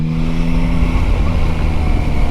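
Yamaha Tracer 9 GT motorcycle engine hums steadily while riding on the road, a loud, smooth low drone mixed with wind rush, with no one talking.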